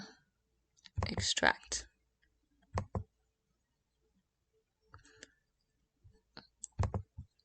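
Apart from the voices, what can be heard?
computer mouse clicks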